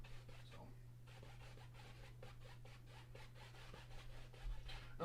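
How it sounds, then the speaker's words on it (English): Paint rubbed onto a canvas in vertical strokes, each stroke a soft brushy scrape, repeating steadily and close over a low constant hum. "all you're doing is just basically rubbing straight lines, kind of vertical."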